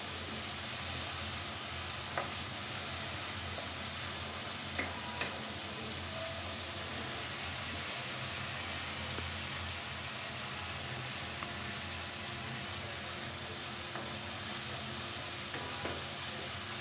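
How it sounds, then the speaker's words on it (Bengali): Spice paste frying in oil in a pan while being stirred, a steady hiss of sizzling throughout with occasional faint clicks of a utensil, no talking. "আমি এটাকে কষাতে থাকবো।"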